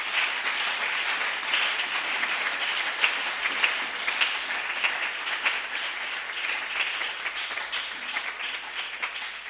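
A church congregation breaks into sustained applause and cheering in praise of the Lord, a dense, steady wash of clapping from many hands that carries on throughout without a break.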